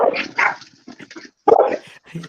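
Several dogs bark and yip in short bursts close by, mixed with brief whimpers, during a casual podcast recording at home.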